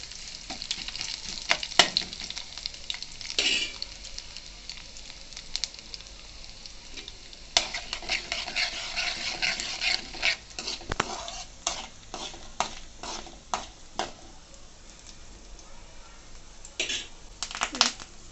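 Stuffed ridge gourd with masala fries in a pan, giving a steady close sizzle with frequent stirring scrapes and clicks throughout.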